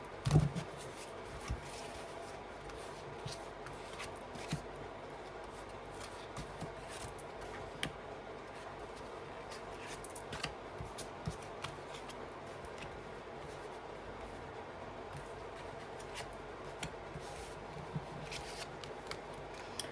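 Playing cards are shuffled and handled at a table, with quiet, scattered riffles and taps close by, faint under a low room hiss.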